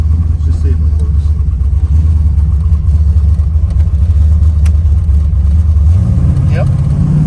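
A drag car on the line lock at the track, its engine holding a loud, steady low idle-rev that climbs in pitch near the end, with people talking over it.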